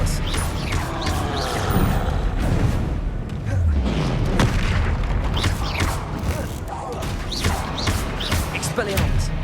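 Confringo blast spells explode in combat in Hogwarts Legacy, a string of booming, thudding blasts amid steady battle noise and in-game voices.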